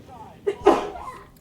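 A single short, sharp sneeze bursts out close by, with a brief intake just before it, then quiet room tone.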